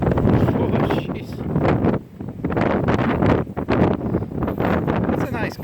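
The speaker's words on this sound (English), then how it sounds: "That's a nice gust." A strong gust of wind roars across the microphone in heavy, rumbling bursts that dip briefly and return, loud and close throughout, with faint voices under it.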